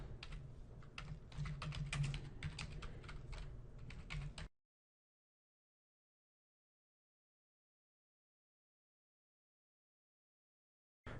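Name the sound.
computer keyboard typing a workflow name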